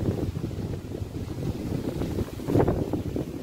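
Strong wind sweeps across a farm among cherry plants, roaring and buffeting the microphone in uneven gusts that swell near the end.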